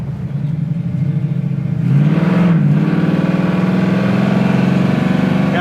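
A 1969 Camaro with a 383 stroker engine revs up loud and close, the exhaust roar swelling midway as the tires break loose, then holding a steady rumbling drone.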